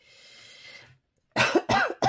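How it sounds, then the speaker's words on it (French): Three sharp coughs in quick succession, following a faint hum and a brief moment of quiet. "Je suis désolée si je tousse"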